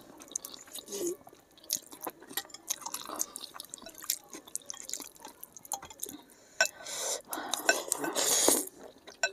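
Cutlery mixing noodles in a big bowl, close irregular scraping, clinks and wet squelches in scattered bursts, with soft chewing-like noises and no clear talk.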